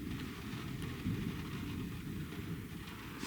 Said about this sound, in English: Listen to the rain pattering on the roof